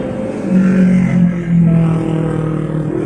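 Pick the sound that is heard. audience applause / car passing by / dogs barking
car passing by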